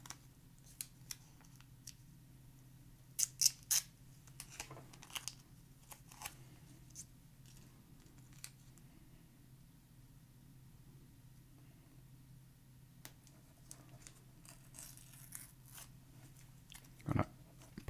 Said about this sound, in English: I'm gonna take a piece of washi tape again